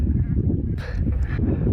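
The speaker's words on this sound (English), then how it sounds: "sheep grazing." A sheep bleats once in a grazing field in Wales, a short wavering call over a steady low rumble of wind or outdoor background noise.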